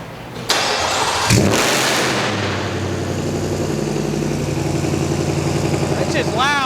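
A Whipple supercharged 2021 Ford F150 engine cranks, catches and settles into a loud, steady idle with a few revs near the end, while people talk over it.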